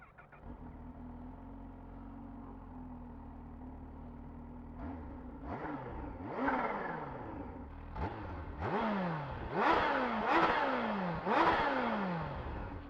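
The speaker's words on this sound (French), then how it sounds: "C'est pas si mal hein, comme bruit pour un pot d'origine." A 2020 Kawasaki Z H2 supercharged motorcycle with its stock exhaust starts from a steady idle, then revs repeatedly in rising, swooping bursts that grow louder toward the end, heard close up.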